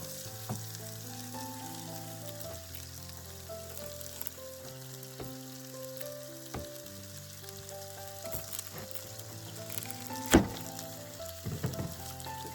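Onion frying in a pan, a steady, soft, continuous sizzle running throughout with faint stirring clicks and one sharper knock near the end, while background music plays over it.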